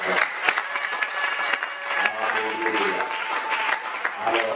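Congregation clapping at a Sunday church service, lively irregular applause with sharp hand claps over a background of music and voices.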